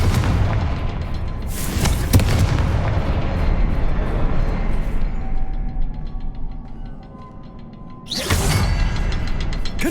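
Confringo spell blasts fire repeatedly in the video game Hogwarts Legacy, heavy booming explosions with crackling debris, two big bursts standing out amid rumbling combat noise.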